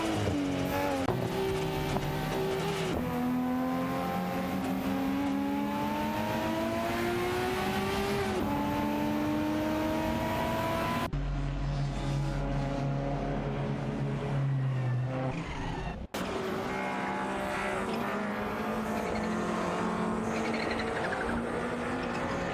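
Race cars roar around a track in a continuous loud stream of engine noise, with rising and falling revs as they accelerate and shift, and a brief gap where one car passes before the pack's drone resumes.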